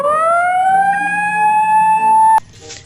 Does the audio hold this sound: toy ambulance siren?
yes